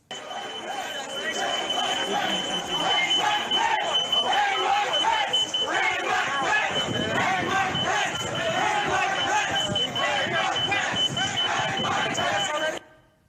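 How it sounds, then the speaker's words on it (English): Rioters at the U.S. Capitol chant loudly and continuously for hanging Mike Pence, a dense roaring crowd with a door security alarm sounding steadily in the background throughout. "You can hear the security alarm from the door in the background, and you can hear the mob calling for the death of the Vice President"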